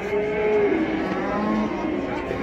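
A cow at a livestock market in Taraz gives a loud, close, drawn-out moo that spans the whole short stretch and slides slightly downward in pitch, with no speech over it.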